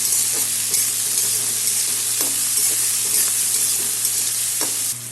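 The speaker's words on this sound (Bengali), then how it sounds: "রসুন আর কাঁচা লঙ্কা দিয়ে দিলাম।" Garlic and green chillies fry in hot oil over onions for a Bengali dal, giving a constant close crackling sizzle broken by a few sharp spatula knocks against the pan.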